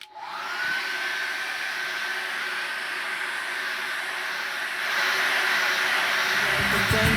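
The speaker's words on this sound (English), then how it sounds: "we're going to dry that off again very quickly" A hair dryer blows steadily on wet acrylic paint, a loud continuous whooshing hiss that starts abruptly and holds, rising slightly near the end.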